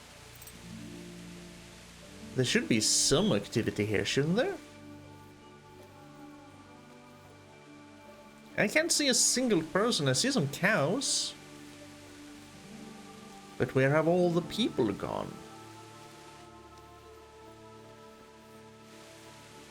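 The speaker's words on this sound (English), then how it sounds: "and it's raining." Steady rain falls in the video game Kingdom Come: Deliverance, a soft constant hiss running the whole time beneath three stretches of someone talking.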